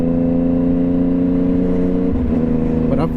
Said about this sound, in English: when I upshift I do this.